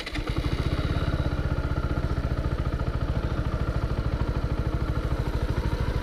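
A motorcycle engine on an off-road ride on a UK moto trip near Exeter, thrumming in a steady rapid pulse, loud and close for the whole stretch.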